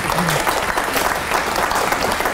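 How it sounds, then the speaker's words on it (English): A conference audience claps loudly and continuously, a close, busy patter of many hands with faint crowd murmur underneath. "You can clap."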